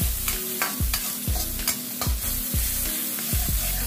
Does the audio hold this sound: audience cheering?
no